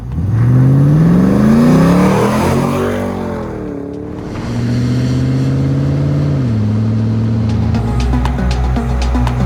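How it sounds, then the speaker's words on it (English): A 1993 Land Rover Defender 110's LS3 430-horsepower V8 engine revs up with a rising growl, eases off, then settles into a deep, loud idle with a brief second rev. "This 110 is powered by our LS3 430 horsepower V8 engine"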